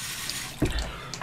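Tap water runs from a faucet to wet a shaving brush. A steady, close splashing stream is followed by a brief heavier splash partway through, with no voices.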